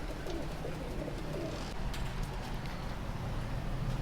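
Punjabi pigeons coo in low, muffled murmurs at a pigeon market in Delhi, the calls steady but faint beneath a busy background rumble.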